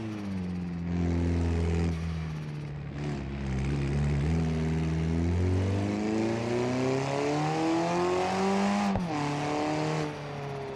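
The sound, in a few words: boosted car engine running, BeamNG.drive video game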